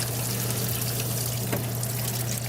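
Engine fluid pours and splashes continuously nearby during engine removal from a Nissan Z, a steady wet gushing over a low mechanical hum.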